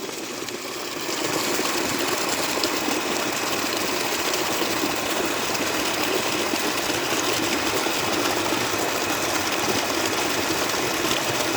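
A 1 hp irrigation water pump with 2-inch inlet and outlet runs steadily up close: a constant motor hum blended with rushing, gushing water, starting about a second in and holding even to the end.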